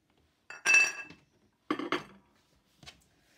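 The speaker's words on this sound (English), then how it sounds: "Let's take that bowl off." A bowl is lifted off a clay planter in three separate moments, each giving a close ceramic clink and scrape, clear against near silence.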